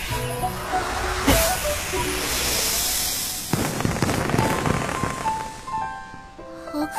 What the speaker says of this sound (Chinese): 他居然用妖盒放烟花